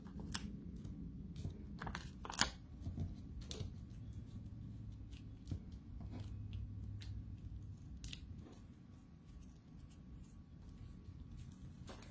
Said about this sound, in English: And then we just need to fussy cut our Happy Halloween.